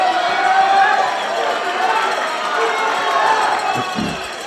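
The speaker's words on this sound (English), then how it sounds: "Brings the crowd to life for our final 20 seconds." A high school wrestling crowd in a gym cheers and shouts through the last seconds of a close match, loud and sustained, with an announcer talking over it.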